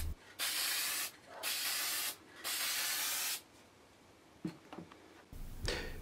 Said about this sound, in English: The spray strokes are light and from, about 6 inches away, and I'm going to build up several coats in a short time.